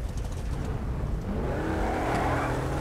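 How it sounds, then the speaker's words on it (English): Wheelspin from a car in GTA 5, a steady engine roar with a rising tire-screech squeal building in the second half, fairly close and continuous, no talk. "That car just spun wheels!"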